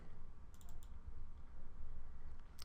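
Several quick computer mouse clicks tap close by in a quiet room, a short cluster of crisp clicks early on and one more near the end, faint over low background hum.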